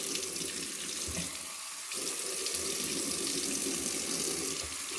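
Tap water runs steadily into a sink while a face is washed, a close, continuous splashing flow with a brief dip partway through.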